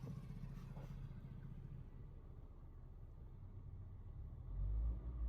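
Car engine revving as the clutch is let out during a driving lesson, a steady low rumble that builds and swells louder near the end.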